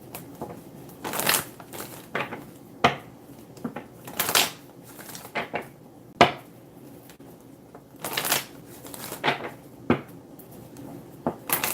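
Tarot cards handled and shuffled during a card reading, with soft irregular riffles, taps and shuffling bursts spaced apart against a quiet background, with no talking.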